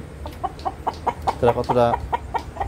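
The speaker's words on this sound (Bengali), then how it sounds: "এখানে আছে দেশি এবং ফার্মি মোরগ।" Native and farm roosters, about four months old, kept in cages, clucking in a quick series of short calls with a longer squawk midway, close by, with a voice talking briefly over them.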